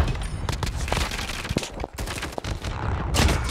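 Rapid bursts of hipfired CR-56 AMAX rifle gunshots in a video game, several close, sharp volleys spread across the clip with short pauses between them.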